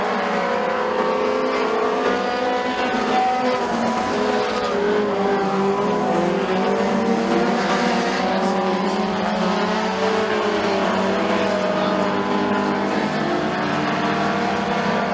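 Race cars roaring through a heat at McKean County Raceway, a steady, loud engine drone with layered harmonics that holds unbroken throughout, with no talk over it.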